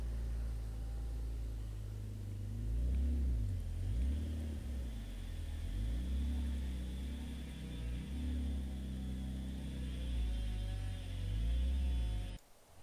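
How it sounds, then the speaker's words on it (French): A BMW E39 528i engine idles steadily with a low, throbbing rumble, rising in a few gentle revs before cutting out abruptly at the end. "c'est la dernière fois que ce moteur tourne dans cette voiture"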